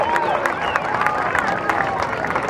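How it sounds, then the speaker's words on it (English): A rodeo crowd at a county fair arena applauds the fair board, a scattered patter of clapping and murmuring voices at moderate distance, with chatter mixed in. "If you would, give them a big round of applause right now."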